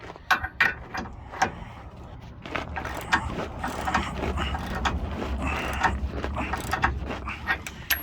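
A ratchet is cranked on the torsion key leveling kit adjuster of a 1995 Chevrolet Silverado, producing repeated close clicks and metallic grinding under steady mechanical strain, with some voices in the background.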